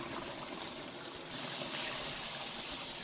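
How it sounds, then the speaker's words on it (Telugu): Water pours into a pot of chicken liver pulusu, starting as a faint trickle and turning into a steady, louder gushing stream partway through. "ఇప్పుడు దీంట్లో కూడా వాటర్ పోయాలి."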